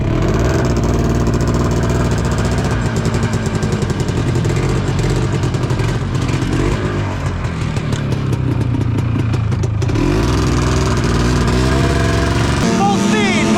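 A small engine on a Kilcher homestead vehicle in Alaska is run hard at full throttle to burn out old oil, roaring steadily close by with revving surges while people shout over it.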